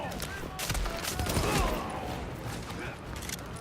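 Pistol shots ring out in a video game as a string of sharp, bursting cracks over mechanical clatter, mixed with a player talking.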